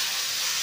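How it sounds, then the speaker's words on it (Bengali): Fried duck eggs and pieces of pointed gourd go into hot oil and spices, giving a short, steady, close sizzling hiss with no voices. "এবার এর মধ্যে ভেজে রাখা ডিম আর পটলগুলোকে দিয়ে দিলাম"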